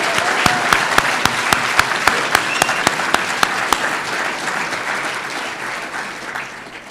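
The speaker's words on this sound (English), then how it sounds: "Would you give Mr. Anderson a round of applause for doing a great job today?" An audience at a school graduation ceremony breaks into sustained applause. Sharp, rhythmic claps stand out at first, then the sound gradually fades to a softer patter.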